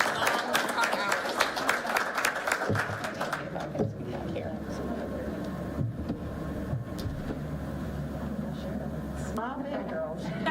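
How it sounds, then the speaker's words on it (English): Applause at a school board of education meeting for nurses, a crowd clapping steadily over the first few seconds before fading into murmuring voices and room noise, with some talk. "if we could give them another round of applause for amazing long, hard hours"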